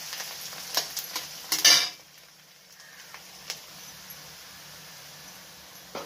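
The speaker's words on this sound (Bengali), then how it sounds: "তো পেঁয়াজটা ভাজা হলে দেব আদা রসুন।" Onions frying in a pan for a vegetable chaat, with a few stirring scrapes and clatters early on, then a soft, quiet sizzle that fades to a low hiss.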